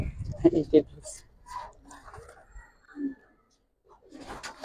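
A giribaz pigeon cooing in short bursts at close range amid a pigeon collection, mixed with people talking and light handling noises.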